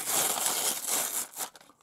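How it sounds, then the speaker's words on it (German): A paper bag being torn open, close and loud, with dense crinkling and tearing that carries on for over a second before it breaks into a few fainter rustles and stops. "damit ihr das wunderschöne Geräusch einer sich öffnenden Papiertüte hören könnt"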